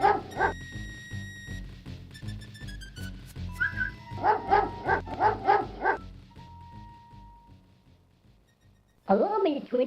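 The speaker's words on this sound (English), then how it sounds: "A bully of a dog terrorizes the poor ants as he playfully digs at their large anthill." In King's Quest V, a dog digs at a large anthill to bully the ants, giving a run of sharp yips and barks in quick bursts over tinkly synthesized game music, then a short pause before a final flurry.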